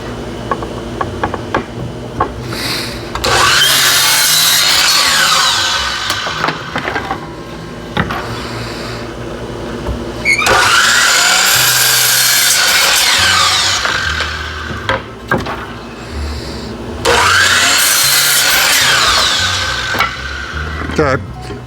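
A power saw rips through mahogany in three loud, close passes, each lasting several seconds with a harsh, grinding whine, separated by short quieter pauses.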